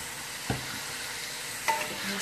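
Beef fried rice with hoisin sauce is stirred in a hot pan, a continuous soft sizzle broken by two brief scraping pushes of the utensil, close up, with no voices.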